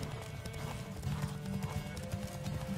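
Hooves of Geralt's horse Roach clip-clopping in The Witcher 3: Wild Hunt, a steady rhythmic trot repeating throughout at moderate loudness over a faint game backdrop.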